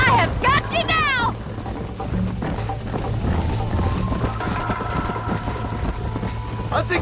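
Horse hooves gallop in Red Dead Redemption, a rhythmic clip-clop beating under game music and a character's voice, with a brief whinny-like sweep near the start.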